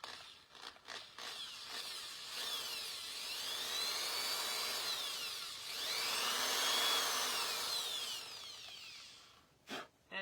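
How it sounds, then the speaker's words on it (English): A power drill bores a hole in a wooden hanger, whining at high pitch and rising and falling as the bit bites in, with short bursts at the start and end around a long sustained run, close and clear. "he'll drill the other hole"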